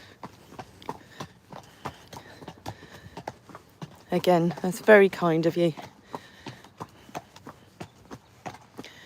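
A horse ambles slowly along at a relaxed pace, with soft, steady clip-clop hoofbeats running through the whole stretch while someone talks over them in the middle.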